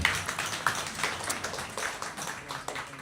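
A small audience claps along at a talk, with fairly quiet, scattered handclaps pattering unevenly at a moderate distance.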